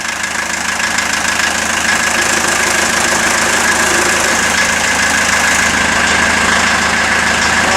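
An engine idles loud and close in a steady, unbroken rumble with a faint knocking texture, alone without speech.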